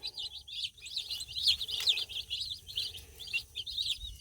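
Many small Cornish cross chicks cheep in dense, continuous high-pitched peeps, close by, with soft rustling and faint low rumble underneath.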